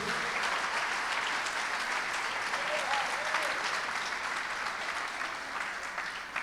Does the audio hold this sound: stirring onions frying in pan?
no